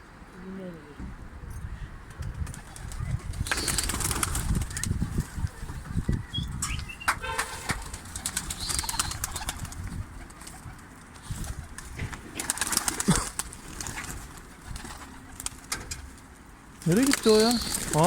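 Şekeri dolapçı tumbler pigeons fly outdoors, with soft cooing and occasional wing flaps heard among people talking throughout.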